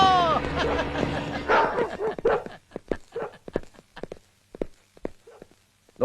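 Large dogs give a few deep barks and yips at the start, followed by scattered thuds and footsteps, with a person calling out between them.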